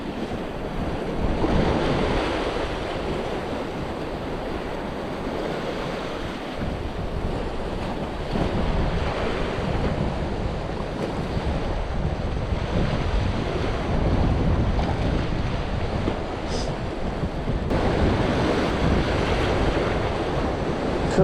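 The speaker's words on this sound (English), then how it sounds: "Tide's rushing that way." Sea waves and tide rush along a rocky shore during a surge warning, a loud continuous wash of surf with gusting wind buffeting the microphone, no voices present.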